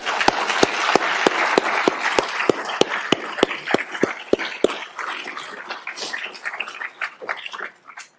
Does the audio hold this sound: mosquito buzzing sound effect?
no